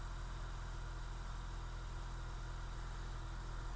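An engine cranks during a battery test, a continuous, even, close mechanical drone with a low rumble and no pauses, and no voices over it.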